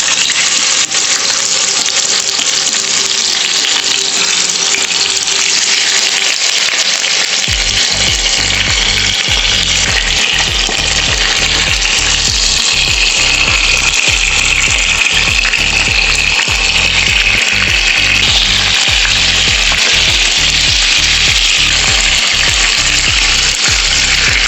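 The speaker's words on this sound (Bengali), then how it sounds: "দেখুন বন্ধুরা, এইভাবে একটা পিঠকে আমি লালচে করে ভেজে নেব।" Salted chicken leg pieces frying in hot oil for a roast, with a steady loud sizzle and hiss. Crackles and spatters grow denser and more rhythmic partway through and continue without a break.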